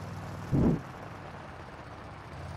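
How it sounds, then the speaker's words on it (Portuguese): A truck engine in the Truck Simulator Offroad mobile game strains while stuck deep in mud, giving a steady low drone with one brief louder surge near the start. "Eita, que o caminhão vai estar sofrendo, viu?"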